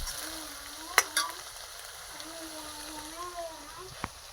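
Onions roast in a pan for undhiyu, a steady close sizzle with a couple of sharp clinks of a utensil, while a voice talks over it.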